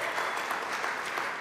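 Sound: applause from concert audience

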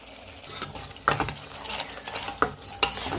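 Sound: spice paste frying with chili powder and turmeric

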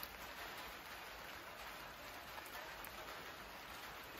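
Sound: rain falling outdoors

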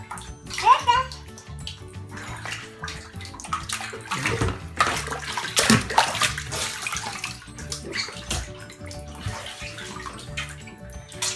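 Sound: water running for a bath

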